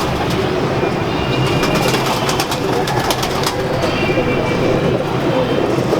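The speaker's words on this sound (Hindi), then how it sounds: "माशाल्लाह, ये प्योर कबूतर हैं जी उनके।" Pigeons coo softly amid a dense, noisy background rumble, with faint voices mixed in throughout, in Kasur.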